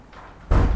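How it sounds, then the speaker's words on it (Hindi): A classroom door is shut with a single solid thud, followed by a louder sustained burst of room noise, close by and moderately loud. "दरवाजा प्रॉपर बंद करो।"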